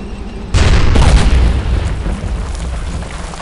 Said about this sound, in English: Take out that artillery!